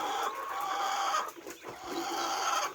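Caged laying hens clucking in a coop, a moderately quiet chorus of overlapping clucks and soft calls, with a brief dip in the middle and no one talking.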